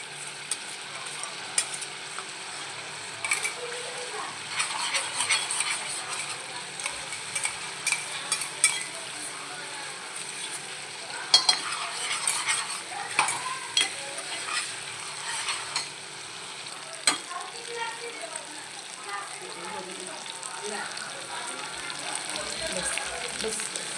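Spinach with fried cashews and garlic-chili paste is stirred in a hot pan, with continuous frying sizzle and frequent scraping, clattering spoon strokes, plus occasional soft voices in the background.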